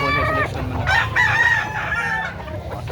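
A rooster crows loudly nearby, its drawn-out call rising and falling over steady background chatter and farmyard clucking.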